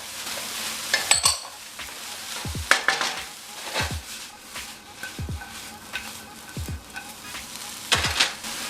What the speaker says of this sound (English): Next, I'm gonna add the garlic.